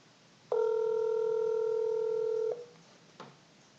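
A phone call placed through a free calling app gives one steady two-second electronic tone, fairly loud, followed by a soft click and quiet hiss.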